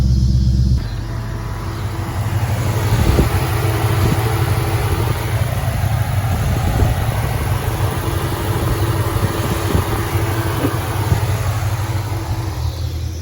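A 2015-2017 Mustang GT V8 engine idles steadily after an oil change with a low, throaty rumble, close by and continuous, with a few faint clicks and knocks over the top.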